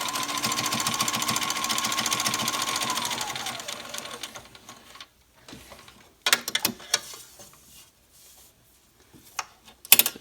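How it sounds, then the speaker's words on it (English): A sewing machine stitches a seam on a fabric face mask with elastic straps, running steadily and loud for about four seconds before slowing and stopping, followed by a few short bursts and faint handling clicks. "Now you're going to sew a 1/4 inch seam on both sides in 2 directions to hold it down securely"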